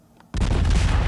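Missiles and particle projection cannons fire together in a BattleTech game. The sudden loud booming volley erupts after a brief quiet moment and rumbles on without a pause, dense and close, with no talk.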